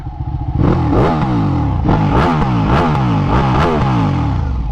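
A newly built Ducati Panigale motorcycle engine revs hard and close, with loud repeated throttle blips rising and falling in pitch over a rough, clattering idle and no talk.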